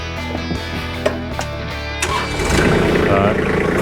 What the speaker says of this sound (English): So the idea is we start the tractor